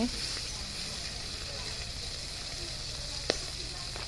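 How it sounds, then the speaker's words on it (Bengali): Fish fries in oil in a wok, a steady, quiet hiss of sizzling that runs throughout, broken by one brief sharp pop near the end. "তারপর মাছ ভেজে দিলাম এখন মাছ ভেজে নেব"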